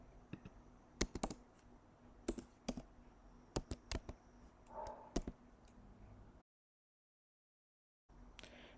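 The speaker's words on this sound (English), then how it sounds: "So in order to set the click event for the item, I just type item view" Sharp, irregular clicks of a computer keyboard as code is typed, arriving in quick bursts and isolated taps over a quiet room, then a short silent gap before more keystrokes.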